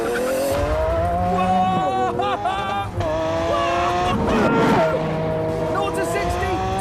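A Lamborghini Aventador accelerates hard on a test track, its V12 engine rising in pitch through several gear changes with brief dips between shifts, loud and close, while someone talks over it.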